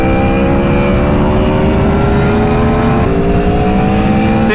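A BMW S1000RR motorcycle accelerating at full throttle, a loud, close engine howl with steadily rising pitch and a brief gear-change dip near three seconds, heard with no talk.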